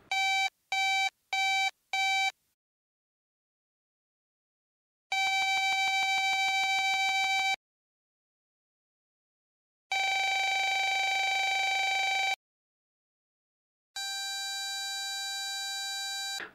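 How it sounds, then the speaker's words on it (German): Beeping from a DJI Mavic Pro drone: first four quick separate beeps, then three long, loud, steady tones with silence between them, each closer to one continuous sustained tone, alone. "dann wird sich das ständig wiederholende Büp immer weiter zu einem, ja, halbwegs ordentlichen, durchgehenden, langen Ton entwickeln"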